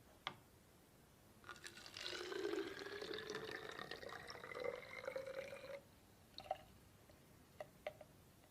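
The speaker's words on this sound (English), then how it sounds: "Now I'm going to transfer the water from this beaker into this bottle here." Water pours from a beaker into a bottle, a close, gurgling trickle with rising pitch lasting several seconds, followed by a few isolated drips.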